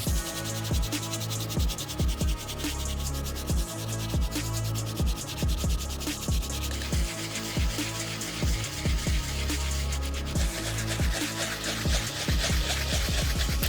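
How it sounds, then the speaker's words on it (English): Stiff brass bristle brush scrubbing the sole of a worn Air Jordan 3 Mocha sneaker, close rhythmic rasping strokes repeating steadily, loud and alone with no talking. "I'm gonna be using our brass bristle brush. This brush by far has the toughest bristles,"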